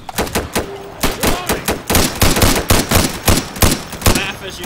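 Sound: gunfire in the video game Insurgency

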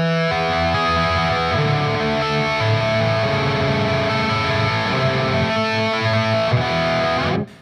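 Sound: heavily distorted electric guitar arpeggiating chords with capo

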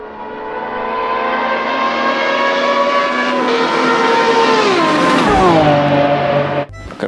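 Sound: toy race car engine sound

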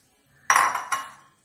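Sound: chicken pieces being put into a pressure cooker

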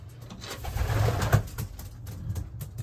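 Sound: racing pigeons cooing in loft

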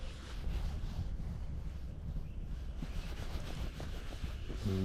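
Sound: side wind blowing while fishing

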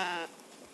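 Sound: sheep bleating while feeding

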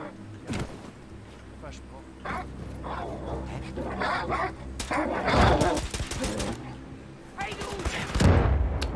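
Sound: gunfire from explosive pistol in video game Wolfenstein II

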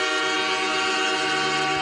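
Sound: train horn sound effect played on stream

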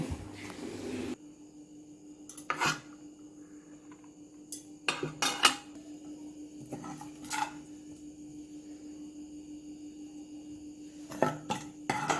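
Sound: serving ghee rice with utensils from a pot

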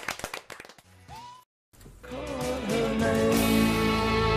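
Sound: small round of applause in radio studio

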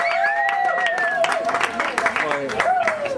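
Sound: audience applause for a performer

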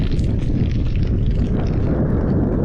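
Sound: strong wind in storm

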